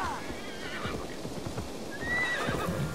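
Horse in the video game Assassin's Creed Valhalla snorting and whinnying while hooves clip-clop steadily underneath, close and fairly loud against game ambience.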